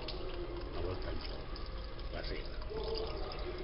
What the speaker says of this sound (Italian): si riapplica il sempre pieno, si riempie nuovamente la vasca.